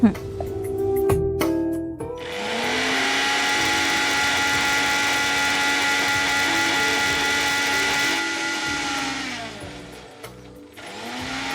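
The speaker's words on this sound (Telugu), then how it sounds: "వేసేసుకొని మిక్సీ పట్టేసుకుందాం" A kitchen mixer grinder whirs loudly for several seconds at a steady pitch, starting and stopping with clattering, close and dominant.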